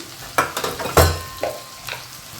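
Rice being stir-fried with chilli powder, coriander powder, turmeric and salt in a pan for a raw mango rice dish, with a spatula scraping and clinking in uneven strokes over a light sizzle, close and clear.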